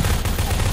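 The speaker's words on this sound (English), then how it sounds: "Just shoot your grenade." Grenade launched during a Prop Hunt round, heard as a short, dense burst of loud, steady gunfire-like blasts filling the whole moment with no talking.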